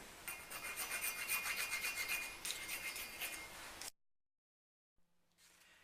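Stone being filed with a rasp during carving, steady close scraping strokes for about four seconds, then near silence and a faint trailing noise.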